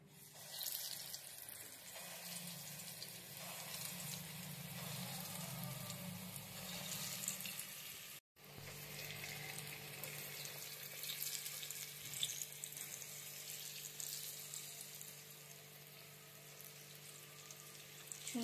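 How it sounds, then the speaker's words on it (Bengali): Dal pakoras deep-frying in hot white oil give a steady, close, hissing sizzle that runs on continuously, with a brief break partway through. "এবার আমি এক এক করে বড়া ছেড়ে দেব।"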